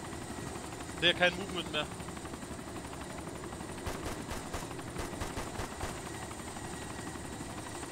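A helicopter in the video game ArmA 2 drones steadily throughout while short bursts of gunfire crackle, including a sharp volley early on and scattered shots later, with someone speaking over it.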